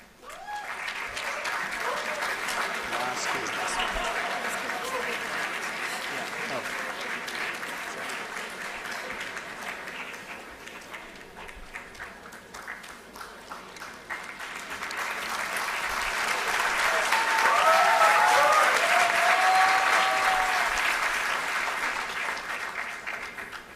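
Sustained applause from the audience at a university convocation ceremony, steady through most of the stretch, fading slightly midway and then swelling louder again.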